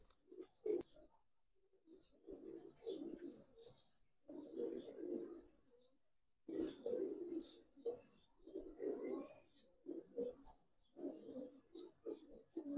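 Young Giribaz pigeons coo in repeated soft, throaty bursts with short pauses between them, close by but quiet, with no talking.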